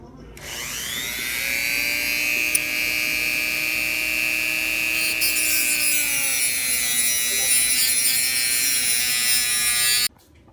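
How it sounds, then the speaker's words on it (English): A Dremel rotary tool cuts through a stripped nut on a 2003 CR125 motorcycle, a loud, close high-pitched whine that holds steady for about ten seconds before stopping abruptly. "I had to fucking use the Dremel and cut it."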